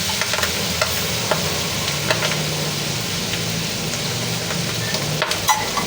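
Sliced mushrooms being stirred in a pan for creamy chicken mushroom, with a steady soft sizzle and scraping stir sounds throughout, a few light clinks near the end.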